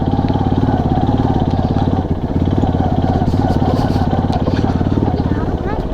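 A motorcycle carrying four riders on a ride to Malika and Gausara, its engine droning loud and steady close by throughout, with voices over it.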